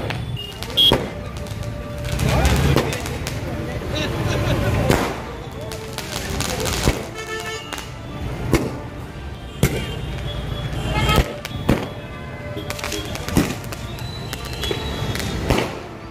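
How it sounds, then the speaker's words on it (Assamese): Firecrackers burst in sharp, loud cracks and pops at a traffic point on a national highway during a political victory celebration, scattered bursts over steady crowd noise and chatter. "ট্ৰেফিক পইণ্টত ফটকা ফুটাই আনন্দ উল্লাস উদযাপন কৰে"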